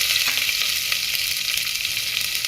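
Finely chopped green chillies frying in hot tempering oil for amla dal, a loud, steady, close sizzle with a bright crackling hiss that stays constant throughout, no voices.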